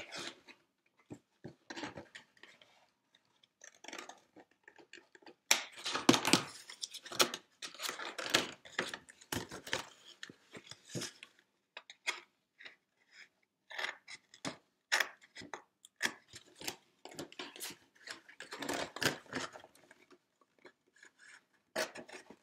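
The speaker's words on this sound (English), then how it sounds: "First, I want to cut the edges off of the cardboard gift box." Scissors snip and rasp through the edges of a cardboard gift box in irregular bursts of cutting and rubbing, close and fairly quiet, with short pauses between cuts and no talking.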